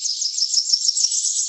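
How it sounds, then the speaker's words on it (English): A Blackburnian warbler gives a continuous, very high, thin buzzy trill that runs steadily throughout, moderately loud and alone, with faint soft ticks underneath. "This is the spectacular Blackburnian warbler."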